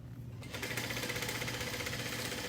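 A Juki sewing machine backstitches a seam on a bag, a close, rapid mechanical whirring with fine ticking stitches, steady for about two seconds after a short start.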